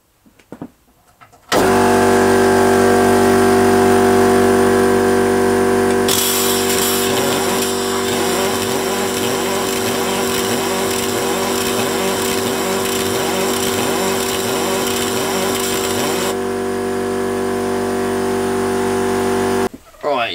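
A Homelite V35 lawnmower engine, old and tight, starts abruptly and runs loud and close with a steady buzzing drone for about eighteen seconds, a rougher surging stretch in the middle, then cuts off.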